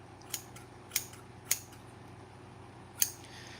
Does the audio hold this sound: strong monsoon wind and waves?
no